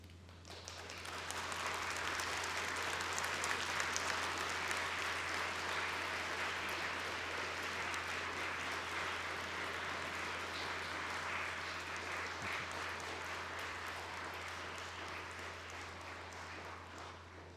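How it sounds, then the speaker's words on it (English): A large graduation ceremony audience gives a long, sustained round of applause, a broad, even roar of clapping lasting over fifteen seconds in a big hall, with a low steady hum underneath. "give a round of applause to those"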